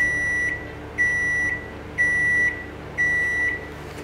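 A running microwave oven hums steadily while a sharp electronic beep sounds four times at an even one-second rhythm, each tone about half a second long, close and clear.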